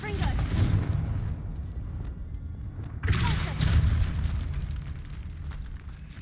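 In Hogwarts Legacy, a Confringo fire spell goes off as two booming explosions about three seconds apart, each a loud, deep blast trailing into a rumbling roar.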